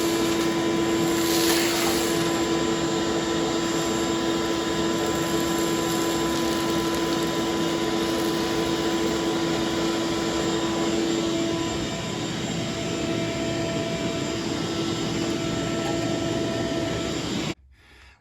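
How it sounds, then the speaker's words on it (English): A vacuum cleaner runs with a steady, loud whine, sucking rust out of the frame rails of a 1974 Chevy Nova in a garage, droning continuously until it cuts off abruptly at the end. "So we're going to vacuum it out because we don't want this stuff in our eyes again."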